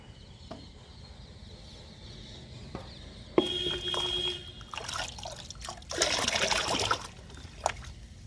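Liquid groundnut-cake fertilizer is stirred into a bucket of water, giving soft swishing and trickling splashes that swell into louder bursts of sloshing midway and near the end, with no voices.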